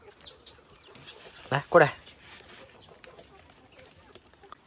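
A young bamboo partridge chick gives a couple of short, close calls mid-clip during heavy rain, while a person speaks quietly nearby.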